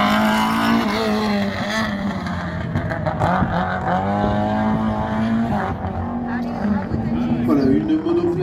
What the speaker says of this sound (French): Voilà, une monoplace également